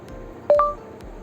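A short electronic beep as the microphone icon above a phone keyboard is tapped to start voice typing, a single bright tone standing alone over faint room noise.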